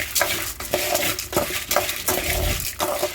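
Cumin and spices dry-roasting in a pan for moringa leaf powder, stirred steadily until golden brown, with rhythmic close scraping of a spoon against the pan over a light crackle.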